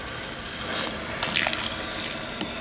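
Water running from an outside sill faucet, a steady hiss with brighter splashing bursts partway through and a faint drip-like tick near the end.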